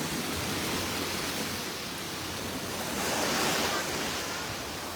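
Ocean waves wash onto a beach in a steady, rushing roar that swells slightly toward the end, with some wind buffeting the microphone and no one speaking.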